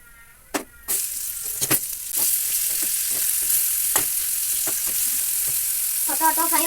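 Potatoes fry in a pan with chili powder and salt, giving a steady close sizzle with sharp stirring clacks and scrapes scattered through it.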